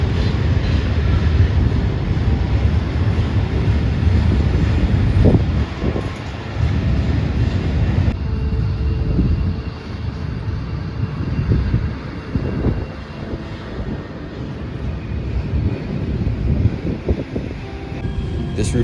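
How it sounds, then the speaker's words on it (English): A train crosses a bridge in Pittsburgh, heard from a rooftop as a broad, distant rumble that holds steady and then eases off, mixed with wind buffeting the microphone. Someone talks over it. "there's actually a train crossing it at this exact moment"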